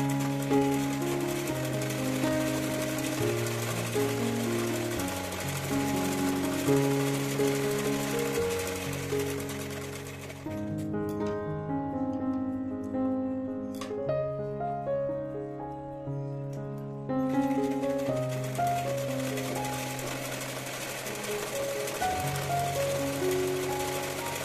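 A sewing machine stitches the side seam of a one-year-old girl's baby frock, running in long loud steady bursts with a brief slower, quieter stretch midway, close up and without speech.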